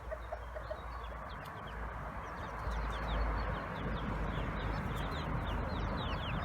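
Chickens cluck steadily in a backyard garden, a soft continuous flock chatter with occasional sharper calls over low outdoor background noise.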